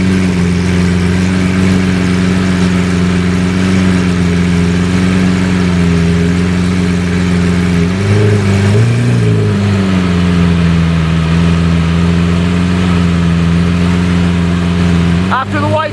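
Straight-piped Lamborghini Murcielago LP640 V12 rumbling loud and close, holding a steady growl, then swelling in a brief rev before settling back; voices talk over the engine.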